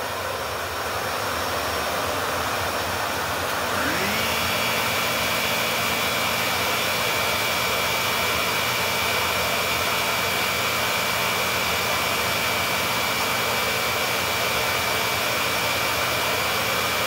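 A Shark ZU560 Lift-Away vacuum cleaner runs steadily with its brush roll at high speed, a loud continuous whine and rush of airflow whose pitch rises and then holds level, with no talking.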